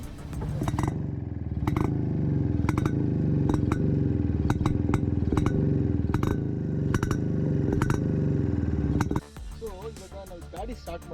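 A restored 1981 Yezdi D-250 Classic motorcycle runs at idle close by, a steady throbbing engine beat with sharp clattering pops, which cuts out abruptly near the end.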